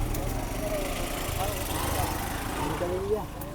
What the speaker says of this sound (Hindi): ये ट्रैक्टर जा रहा है